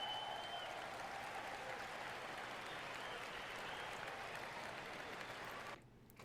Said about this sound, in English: Listen to that audience. Listen to the crowd so happy at this.